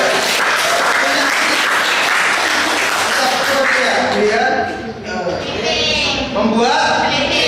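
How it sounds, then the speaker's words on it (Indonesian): A classroom group gives sustained applause for a presenting student team, with dense clapping that fades slightly before rising again while voices chatter underneath. "beri aplaus untuk kelompok 2 ya"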